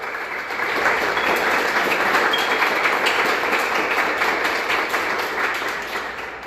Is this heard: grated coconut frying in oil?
no